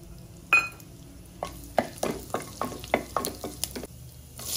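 Whole spices such as cinnamon, cloves, star anise and fennel hitting hot oil, a burst of crackle followed by a series of rhythmic stirring scrapes and sputtering pops in a pan, close and without talk.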